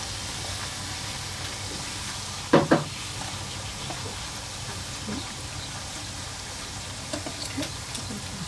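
Food fries in hot oil during a Shan cooking class at Inle Lake, Myanmar, giving a steady close bubbling sizzle throughout, broken by a few brief clicks and clatters of a utensil.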